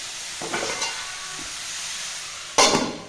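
Cauliflower sabzi stirred in a hot pan, giving a steady sizzle with scraping stirs near the start and a louder burst of frying hiss toward the end, close and with no talking.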